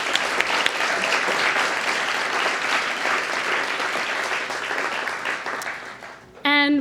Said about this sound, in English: everyone at Next City deserves a round of applause